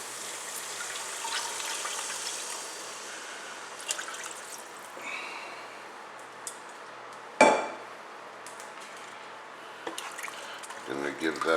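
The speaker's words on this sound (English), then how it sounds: "to this we are going to add in our shrimp stock" Shrimp stock poured into cooked vegetables and roux in a pot: a soft liquid trickle with drips and a few clinks of pot and utensil, one louder knock midway, while someone talks.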